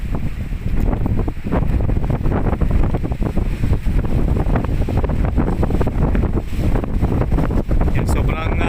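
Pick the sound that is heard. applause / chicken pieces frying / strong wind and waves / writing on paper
strong wind and waves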